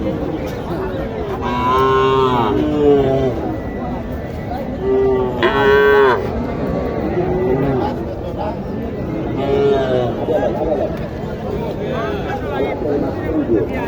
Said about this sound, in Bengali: ছোট্ট একটি গরু